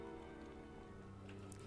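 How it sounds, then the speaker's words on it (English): Desert rain ambience in the Diablo 2 video game, a very faint, steady patter of falling rain with a low hum underneath, continuous and without voices. "Welcome to the desert rain."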